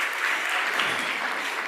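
An audience applauds during a speech on Africa's future, a steady, dense wash of many hands clapping at even loudness throughout, with no break.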